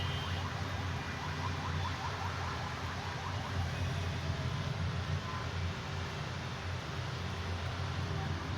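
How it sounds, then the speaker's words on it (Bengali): Heavy nighttime rain pours in a storm as cars creep slowly along, a dense, steady hiss with a low rumble beneath it that holds constant throughout. "গাড়ি ধীরে ধীরে চলছে, কারণ বৃষ্টি তো, প্রচুর বৃষ্টি"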